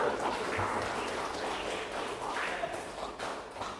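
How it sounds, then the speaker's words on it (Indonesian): Students in a classroom clap their hands together, a dense, steady patter of many small claps filling the room at moderate loudness, with faint voices underneath. "Tepuk tangan lu."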